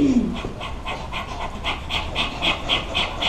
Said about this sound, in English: Strong, panting dog breath.